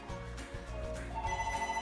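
A house phone rings indoors in a kitchen under renovation, giving a steady electronic ringing tone at moderate volume with no talking over it.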